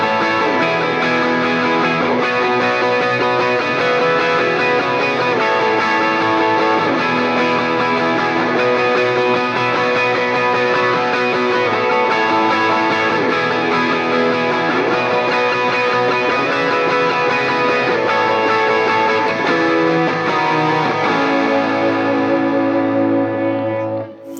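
Electric guitar with chorus and distortion effects playing a sustained high chord part, continuous and loud, fading out at the very end.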